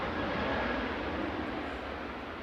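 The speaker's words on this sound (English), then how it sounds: "Ryanair 3217 from Milan." A Ryanair Boeing 737-800 at Manchester Airport gives a steady, loud broadband engine roar with a dense rushing hiss, constant across the whole stretch with no voices.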